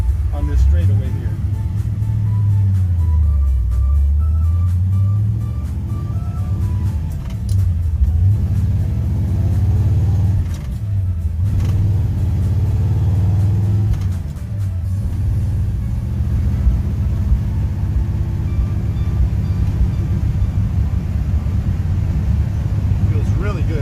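A 1955 Chevy Bel Air with a 502 engine and four-speed cruises a straightaway, its deep engine rumble steady and loud throughout with rising revs between gear changes, while someone talks over it.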